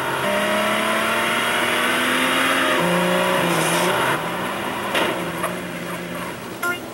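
A car in GTA San Andreas driving school drives and flips over, with a steady engine drone that changes pitch and a few knocks and clatters as it tumbles near the end.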